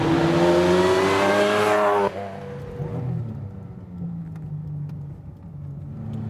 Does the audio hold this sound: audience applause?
no